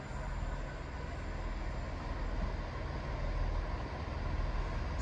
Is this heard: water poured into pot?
no